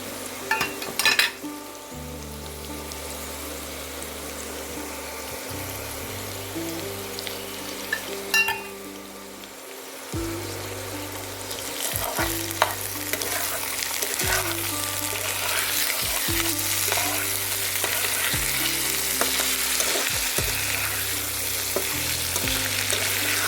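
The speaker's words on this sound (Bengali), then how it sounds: "আদাটা কিছুক্ষণ কষিয়ে নিয়ে এবার নুন আর লঙ্কা গুঁড়ো দিয়ে দিলাম।" Potatoes with ginger paste fry in a pan with steady sizzling, while repeated stirring strokes scrape and clatter against the metal in a loose rhythm; no talking.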